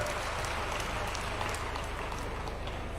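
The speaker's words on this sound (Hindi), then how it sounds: "जोरदार तालियों से इस झीलों की नगरी में स्वागत है।" Crowd applause at a political rally in Bhopal welcoming the chief minister, a steady distant wash of clapping under a constant hum, continuous and fairly faint throughout.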